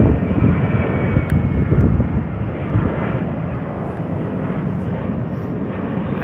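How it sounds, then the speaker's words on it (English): A Virgin Boeing 737-800 airliner starts its auxiliary power unit on the apron, a loud, steady broadband roar with a faint high whine, heard alone without voices. "we have a Virgin 737-800, and that's starting its APU"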